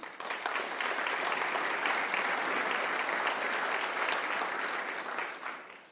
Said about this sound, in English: I want to give another round of applause for the legislators that are here today